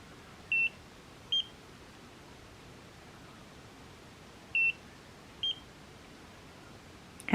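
Four short electronic beeps from a Nira skincare laser set to level 2, sounding in two pairs with a pause between, clear and close over a quiet background.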